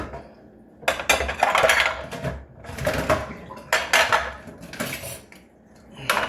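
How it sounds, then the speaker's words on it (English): Dishes and cutlery clatter and scrape in bursts under running water, close by, with short pauses between washing movements. "Or maybe you can just watch me do some dishes."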